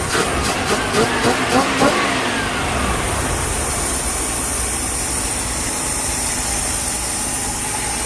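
A carbureted RV engine running after a tune-up, a few sharp revs at the start settling into a steady, smooth idle that carries on alone.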